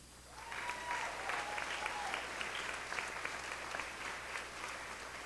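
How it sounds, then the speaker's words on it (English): Sustained audience applause for graduating students at a 2024 high school graduation ceremony, a dense steady patter of many hands clapping that swells in quickly and holds at an even level throughout. "Please join me in giving these students a round of applause."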